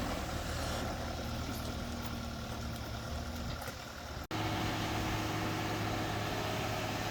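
A concrete truck's engine idles at a pole barn garage build site with a low, steady rumble. It stays quiet and even, with a brief dropout partway through before the drone resumes.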